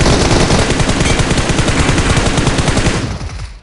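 A rapid spray of automatic gunfire in a multiplayer shooter game, one loud continuous burst of tightly spaced shots lasting about three seconds before it cuts off and fades.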